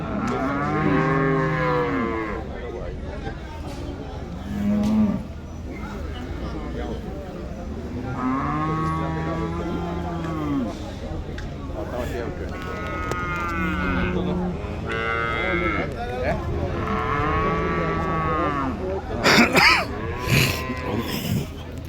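Several cows moo repeatedly at the Chattiparamba cattle market, long drawn-out calls overlapping one after another, with a busy outdoor murmur behind them.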